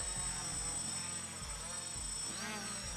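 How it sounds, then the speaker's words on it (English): A multicopter held in the hand whines steadily as its motors spin up, a close, loud buzzing drone with a slight rise in pitch and pulsing flutter as the throttle increases. "Hold the multicopter firmly in your hand and increase the throttle."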